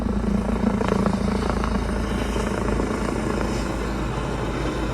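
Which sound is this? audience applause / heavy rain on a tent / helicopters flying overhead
helicopters flying overhead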